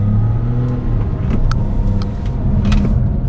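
Proton X50 1.5 TGDi accelerating on the Sepang circuit: a loud, steady engine drone with continuous road and wind rumble, recorded close, with faint clicks and rattles.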